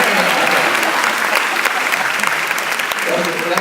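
Dense, loud applause from a crowd at a university honors college welcome event for transfer students, steady and continuous from start to finish.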